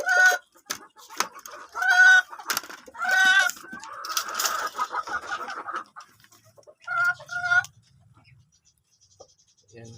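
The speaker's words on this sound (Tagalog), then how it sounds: "yan po mga idol yung ating broodcock na Sweater Boston" A Sweater Boston broodcock rooster clucks and crows in several loud, harmonic bursts close by, with short pauses between calls and a lower grunting cluck near the end.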